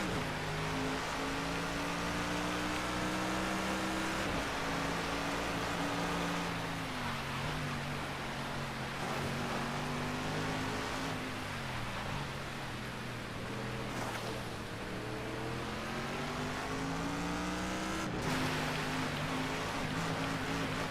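A car engine in a Sonic racing video game drones continuously for about twenty seconds, pitch sliding up and down with throttle changes, with a washy splashing layer mixed in.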